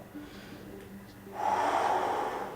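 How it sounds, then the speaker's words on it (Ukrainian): A person takes a deep breath in through the nose and then exhales through the mouth during a pelvic floor exercise. The breath is a single long, breathy rush that swells loud near the end. "Робимо глибокий вдих через ніс і видих через рот."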